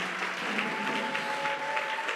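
Sunday church congregation clapping and acclaiming, a steady, blended roar of many hands with a faint held tone beneath, unbroken and moderately loud across the moment.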